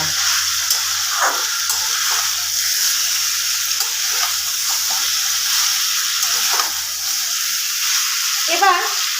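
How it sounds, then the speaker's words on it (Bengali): Chicken in a pot over a raised gas flame hisses and sizzles steadily while a spoon stirs it with occasional scrapes and knocks. A faint low hum runs beneath until it cuts out near the end, and there is no speech. "গ্যাসের ফ্লেমটা একটু বাড়িয়ে মাংসটাকে আমি সেদ্ধ মানে নাড়াচাড়া করে নেব"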